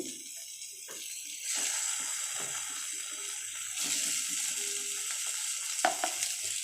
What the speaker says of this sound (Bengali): মশলাটা কষে এসেছে এবার আলুগুলো দিয়ে দেব